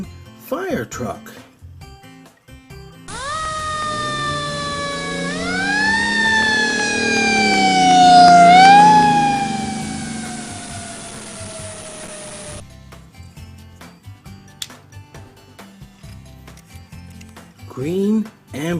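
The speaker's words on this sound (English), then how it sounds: "Green fire truck." A fire truck siren wails close and loud, sweeping up and down in pitch for about ten seconds before cutting off, with brief engine and road noise around it.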